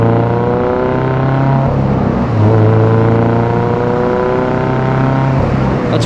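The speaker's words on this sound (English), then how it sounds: "I think this is the perfect exhaust setup" A car engine fitted with an equal length header exhaust revs up toward 4,000 RPM, a loud, close, droning exhaust note that climbs and holds with no talking.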